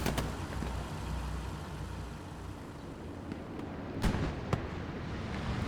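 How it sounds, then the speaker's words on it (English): An anti-tank rocket fires in a World War II battlefield game, a sharp blast near four seconds followed by another crack at four and a half, over a low engine rumble of distant armor. "Rocket fires at the medium right there to our bottom left."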